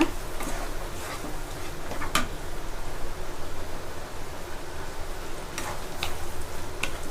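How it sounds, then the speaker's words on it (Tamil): Ingredients for a medicinal curry, including shallots, garlic, dried turkey berry, pepper and cumin, sautéing in a pan, giving a steady close sizzle with occasional sharp ticks and scrapes from stirring. "இதையும் நல்லா பச்சை வாசனை போகிற அளவுக்கு நல்லா வதக்கிக்குங்க"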